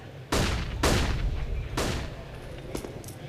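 Flashbang grenades go off in a Counter-Strike match on Inferno: three loud, sharp bangs in quick succession followed by fainter distant pops, with no voices over them.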